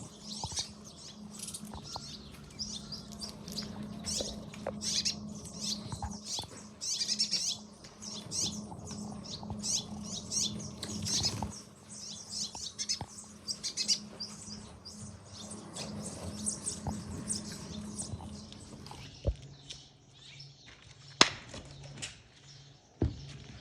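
Birds chirping and tweeting at an animal sanctuary, scattered bright calls coming near and far over quiet background with occasional soft knocks and flutters.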